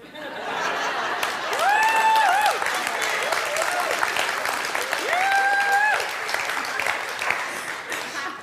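A church congregation applauds during a sermon, steady crowd clapping with a few chuckles mixed in, holding at an even level throughout.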